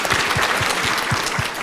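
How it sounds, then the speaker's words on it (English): Audience applause following a panel discussion on Canadian investor and start-up visas, a steady dense wash of clapping with no voices over it, close and continuous. "we should probably say thank you by applauding"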